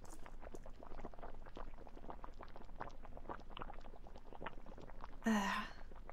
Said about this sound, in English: Pot is boiling.